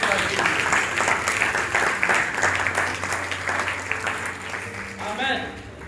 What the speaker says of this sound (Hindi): जोरदार ताली बजाओ इस बात के लिए।